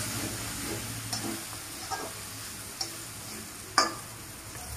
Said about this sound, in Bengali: এভাবে শাকের সাথে বেগুনটাকে ভালো করে মিশিয়ে দেবে।